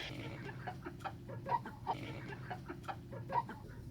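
A farm flock of hens and a rooster cluck steadily at close range, a busy run of short, repeated clucks with a few louder calls standing out.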